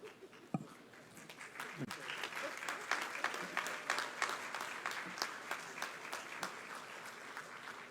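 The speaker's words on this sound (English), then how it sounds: "Give them all a round of applause." Audience applause at a university graduation ceremony for the Faculty of Social Sciences at Cave Hill, Barbados, steady clapping from a large crowd sustained for about eight seconds after a sudden start.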